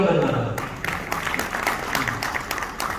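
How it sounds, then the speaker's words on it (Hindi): Scattered audience clapping at a poetry gathering honoring martyrs, with a voice speaking at the start. Uneven claps then continue at moderate loudness. "इनके लिए भी तालियां बनती है।"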